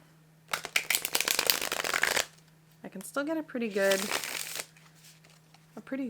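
A tarot card deck with slightly sticky cardstock gets a riffle shuffle, a dense rapid flutter of cards lasting under two seconds, followed by someone talking with a steady low electrical hum behind.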